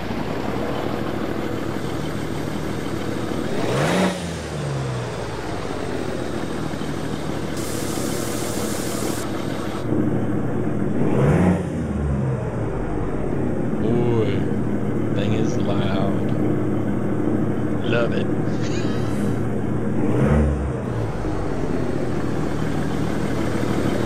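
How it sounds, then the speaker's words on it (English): The classic Cummins diesel in an Autocar AT64 log truck cranks and fires up in a trucking simulator, settling into a steady rumbling idle with rising revs, while someone talks over it. "A great addition to the engine stable for some classic Cummins sounds."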